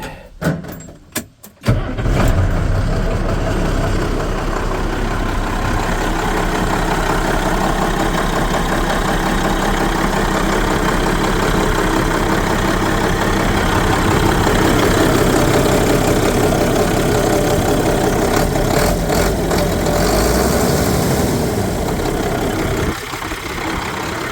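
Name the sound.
old truck with Cummins diesel engine running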